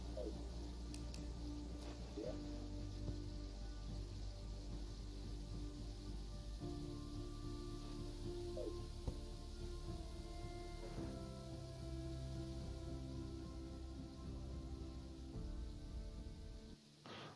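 Steady soft rain patter and scattered drips in the video game Terraria continue throughout, with a low hum beneath and no talking.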